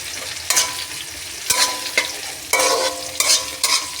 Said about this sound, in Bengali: পেঁয়াজটা অল্প একটু ভাজা বেশি ভাজা করবো না